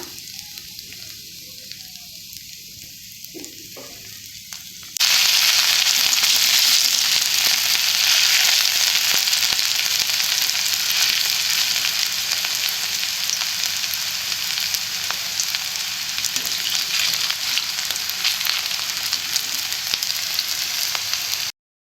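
Kohlrabi bhajia deep fry in hot oil, a loud, continuous bubbling sizzle that surges suddenly after a few seconds of quieter frying and holds steady to the end.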